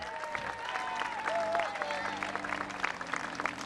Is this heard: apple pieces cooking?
no